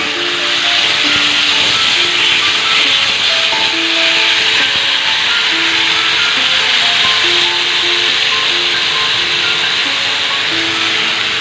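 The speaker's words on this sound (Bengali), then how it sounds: "তো এই যে টমেটোগুলো দিয়ে দিলাম।" Tomatoes hit hot oil seasoned with five-spice and a little turmeric, giving a loud, steady broadband sizzle and hiss that runs unbroken throughout, with faint tonal background sounds underneath and no talking.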